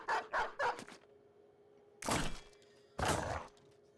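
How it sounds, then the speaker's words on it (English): A dog barks in the Battle Brothers video game: a quick burst of three short barks, then two louder, separate barks about a second apart, with quiet gaps between. "So we'll summon this dog to have it do my job."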